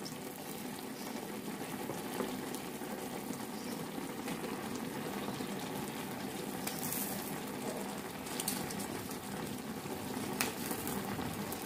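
Water boiling steadily in a cooking pot, a continuous bubbling hiss at low volume with no voices.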